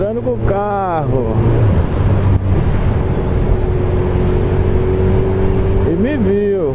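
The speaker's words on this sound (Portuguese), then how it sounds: "Entrando com o carro." A car pulls in near a beach, its engine droning steadily close by, with revving swells near the start and end.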